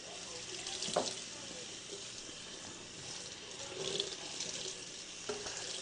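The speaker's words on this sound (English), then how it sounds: "Rinse out all that that dish soap sprayed" Running water rinses dish soap out of a whitetail deer skull being cleaned for a euro mount, a steady broadband spray with brief splashy surges as the stream hits the bone.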